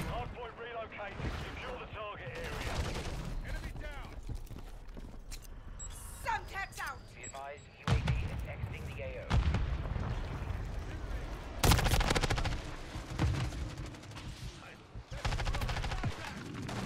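Rapid gunfire bursts from an MTZ 556 rifle in Call of Duty: Modern Warfare III, crackling through most of the stretch with louder sharp reports near the end, mixed with game sounds and a player talking over it.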